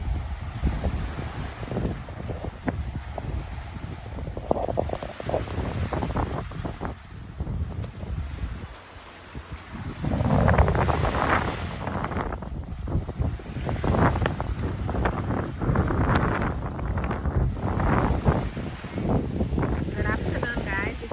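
Rough Caribbean surf churning against a beach while strong gusts of wind buffet the microphone, producing a constant, heavy roar that swells and eases without pause.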